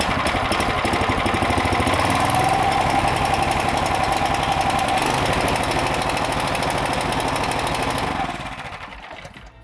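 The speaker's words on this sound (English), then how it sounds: "To get it running, I'm gonna take it and choke it. I'm gonna turn on the gas, and I'm gonna pull the cord." Gas power washer engine running after a pull-cord start, a loud close steady mechanical rattle and drone that holds for most of the stretch, then fades near the end.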